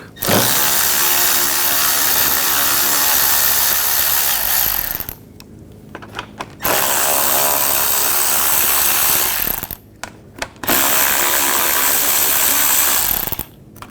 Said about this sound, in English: Use an 8mm socket. Take these bolts out.